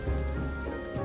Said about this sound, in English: It's a stormy day at Elliott's house. Lightning and thunder.